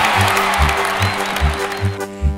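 A crowd cheers and applauds as a steady, pulsing musical backing plays underneath, keeping a continuous wash of noise throughout.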